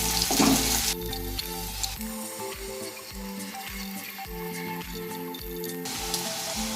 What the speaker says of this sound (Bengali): পেঁয়াজটা একটু লাল করে ভেজে নিলাম।